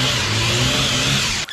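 A Barra engine in a Toyota Dyna, a cheap used truck fitted with new coils, runs loud and close with a steady mid-pitched engine drone and slight revving throughout, cutting off abruptly at the end.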